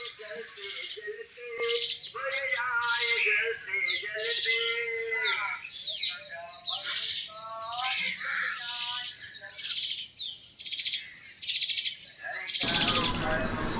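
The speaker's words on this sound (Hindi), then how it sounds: "दूसरे आप सुन सकते हैं चिड़िया बोल रही हैं।" Birds chirp and call repeatedly in a small village beside the Ban river in Amroha district, bright overlapping phrases close by over a faint steady background hum.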